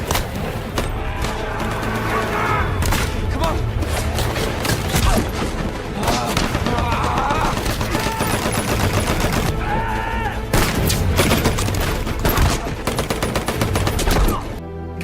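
Dense, continuous gunfire and bursts in a war film battle scene, as soldiers escape Hacksaw Ridge under enemy fire, loud and sustained throughout with booming hits mixed in.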